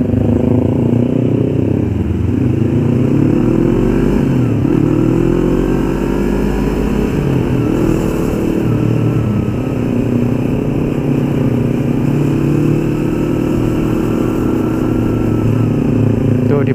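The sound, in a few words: Yamaha MT-25 motorcycle engine during test ride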